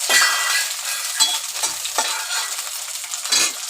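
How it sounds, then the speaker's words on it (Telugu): Dried red chillies fry lightly in oil, giving a steady close hiss and crackle with occasional scraping of a spoon stirring the pan, alone without speech. "ఎండుమిర్చి కొంచెం లైట్గా దోరగా వేయించిన తర్వాత నూనెలో"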